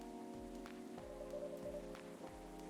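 Quiet, steady rain patters outside a café in the Coffee Talk video game, a soft continuous hiss beneath sustained musical tones.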